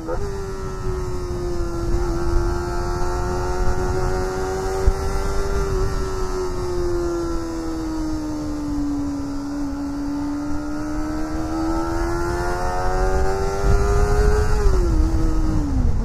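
A Kawasaki Ninja ZX25R KRT Edition four-cylinder engine wails at high revs, a loud sustained scream that holds nearly steady pitch, dips slightly midway, then climbs again before dropping off at the end as the bike is ridden.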